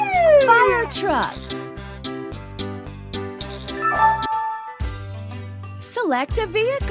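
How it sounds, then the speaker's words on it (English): Rising and falling fire truck siren wails from a children's alphabet game sweep in at the start and again near the end, layered over upbeat synthesized game music with steady beats. "Fire truck."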